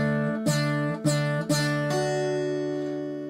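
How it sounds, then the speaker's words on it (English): An acoustic guitar plays the Molly Malone (Cockles and Mussels) tune as plain melody notes over bass notes, a few plucked chords ringing on clearly and slowly, with the last note sustaining and decaying alone. "You could actually play the whole arrangement just playing the melody notes and the bass notes"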